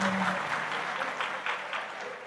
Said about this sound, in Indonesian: Kok udah tepuk tangan toh?